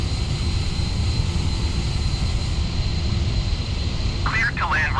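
A KLM Airbus A330 jet, registration PH-AKF, landing at Amsterdam Schiphol, heard as a steady broad engine roar, loud and constant, with a brief faint radio chirp near the end.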